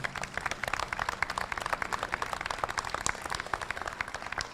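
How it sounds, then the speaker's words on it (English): Audience applause for a veteran pilot who was shot down and survived, at a county veterans remembrance event; steady, moderately quiet clapping from a crowd continues throughout with no voices over it. "he deserves a round of applause."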